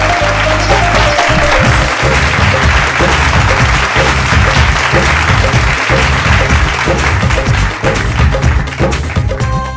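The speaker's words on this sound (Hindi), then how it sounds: "जोरदार ताली के साथ स्वागत करी आजमगढ़ उत्तर प्रदेश से माटी के लाल वीरेंद्र भारती।" Loud, dense applause from a studio audience on a Bhojpuri singing competition TV show, a continuous wash of clapping lasting the full stretch without pause.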